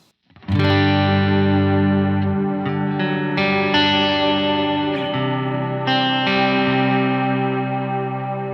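Electric guitar chords through an echo pedal ring out with heavy effects, each strum sustaining and blooming with shimmering echoes and a distorted, chorused tone.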